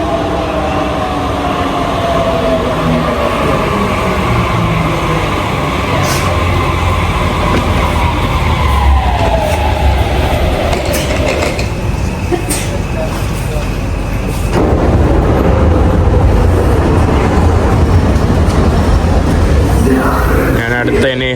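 Steady loud rumble and rising, falling whine of a Budapest metro train in motion, heard from inside the carriage with people talking over it.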